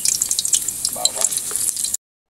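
Garlic frying in a hot pan, with a steady bright sizzle and crackle and some light stirring. Close and fairly loud, no talk, cut off abruptly near the end.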